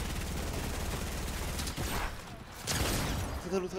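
Gunfire bursts from a first-person shooter match in Unreal, dense rattling shots running continuously under loud gameplay noise, with brief voices in the mix.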